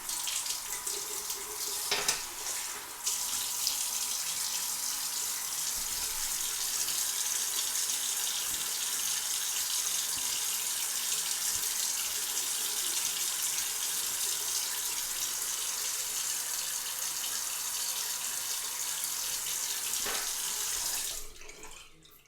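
A bathroom tap runs to rinse a razor and face after a wet shave, a steady close rush of water that flows unbroken for about twenty seconds and then shuts off.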